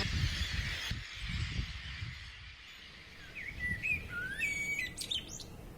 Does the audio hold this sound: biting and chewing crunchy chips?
no